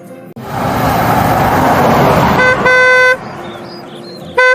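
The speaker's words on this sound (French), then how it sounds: "Tu sais combien de fois j'ai klaxonné?" Car horn honking, a blaring toot that comes twice over a rumbling engine and traffic, loud and close, with a short third blast at the end.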